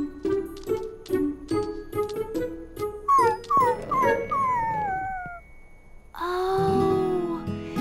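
Cartoon puppy whining and howling, a series of short rhythmic whimpers building into wavering, rising howls, then a longer drawn-out whine, close and loud with no talk.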